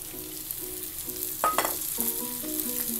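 Chopped capsicum fries in a pan of lemon chicken, a soft steady sizzle under brief stirring clatter, close and fairly quiet, with no voices.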